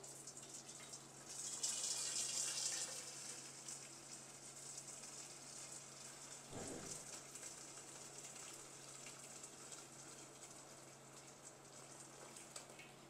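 Hot water poured from a kettle while preparing a warm winter dessert served over a warmer: a steady, soft watery hiss that swells near the start, with one brief knock midway and no talking.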